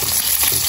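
A sunny side up egg frying in plenty of cooking oil, a brief burst of loud, continuous sputtering sizzle heard alone.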